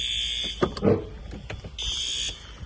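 A building fire alarm blares in a steady high electronic tone, briefly interrupted by knocks and thumps before resuming, loud and close with no talking.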